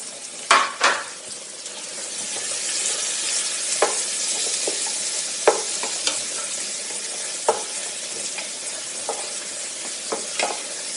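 Onion frying in a pan until golden brown, a loud continuous sizzle broken by repeated scraping and clinking as a utensil stirs it at irregular intervals.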